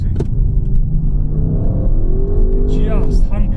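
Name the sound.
Audi RS6 estate car exhaust note revving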